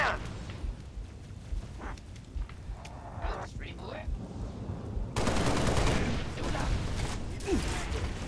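Gunfire in Halo Reach, scattered bursts and single shots amid mechanical clatter, swelling into a dense, louder barrage toward the end, with a voice talking over part of it.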